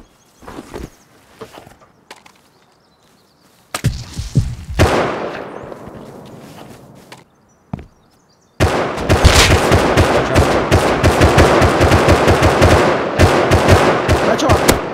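Gunfire in the video game Rust: scattered single shots and a heavy blast at first, then a long loud stretch of rapid continuous automatic fire up close.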